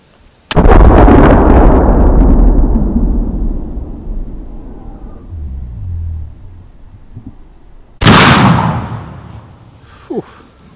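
A black powder muzzle-loading rifle fires one loud, close shot with a long rolling boom that decays over several seconds, then a second sharp blast follows later with a trailing echo.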